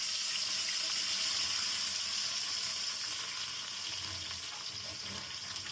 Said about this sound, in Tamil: அதை வந்து இந்த எண்ணெயில் நான் போட போகிறேன். இது வந்து ஃப்ரை பண்ண போகிறேன்.